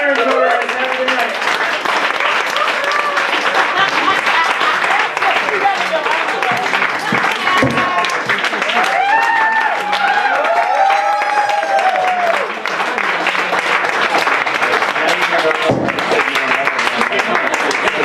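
An audience applauds at the close of a stand-up comedy set in a club, steady full-room clapping with some cheering that holds loud and continuous throughout, a voice rising briefly over it.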